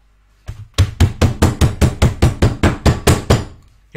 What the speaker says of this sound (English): Get the hammer.